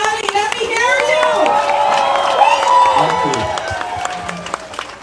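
Crowd of residents at an outdoor address in Canal Number Two Polder, West Bank Demerara, clapping and cheering loudly for President Irfaan Ali, steady applause with whoops and a voice calling over it.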